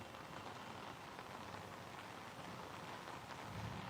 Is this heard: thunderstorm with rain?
yes